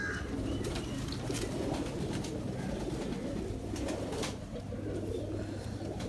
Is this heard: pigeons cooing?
yes